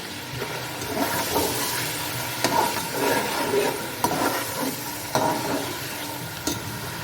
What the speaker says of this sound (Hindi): डालेंगे अदरक लहसुन का पेस्ट, चॉपली रफ किए हुए टमाटर डालेंगे